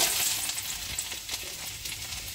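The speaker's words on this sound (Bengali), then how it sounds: "কড়াইতে তেল দেওয়া হয়ে গেছে, তেলটা তেতে গেছে। রসুন কুচি দিয়ে দিচ্ছে।" Chopped garlic frying in hot oil in a kadai, a close, steady crackling sizzle with no talk.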